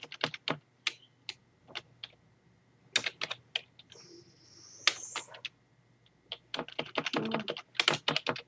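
Keys clatter on a computer keyboard as a business name is typed, coming in quick close bursts of taps with short pauses between runs, a brief soft rustle in the middle, no talking.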